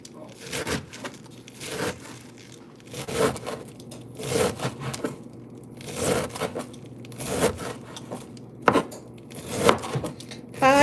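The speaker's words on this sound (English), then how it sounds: "you cut this very thinly, because you don't want huge chunks in the salad" Knife chopping food thinly on a board for a salad, a steady series of crisp cuts and taps repeating roughly every second, close and clear, with a low background hum.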